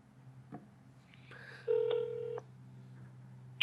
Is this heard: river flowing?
no